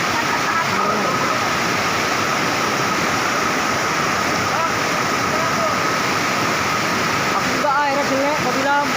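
Bathing place with flowing water at Lawe Ger-Ger, Kutacane: a loud, steady rush of falling and churning water fills the whole stretch, with faint voices under it.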